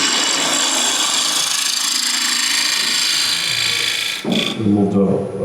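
A gouge cuts on a wood lathe, cleaning up the inside of a turned wooden lid with a continuous close scraping and shaving sound. The cut changes near the end as the tool shifts, and someone talks over it.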